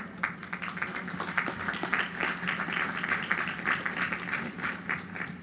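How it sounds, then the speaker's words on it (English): Graduates at a college commencement ceremony applaud themselves, a steady wash of many hands clapping at moderate level that holds evenly throughout. "So please, give yourselves a round of applause."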